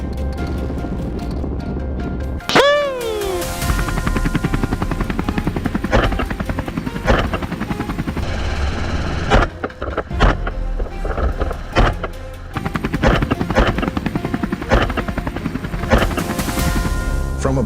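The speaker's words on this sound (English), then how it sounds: "the rotor blades cutting through the air with a deafening roar" A helicopter used for hunting wild boar drones on continuously with a loud, close rotor and engine roar, marked by repeated sharp clicks and knocks over the steady noise.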